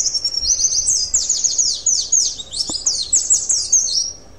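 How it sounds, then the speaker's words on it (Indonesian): Birds chirp and twitter in quick, bright bursts, close and fairly loud, with no voices. "Itu suara burung ya anak-anak."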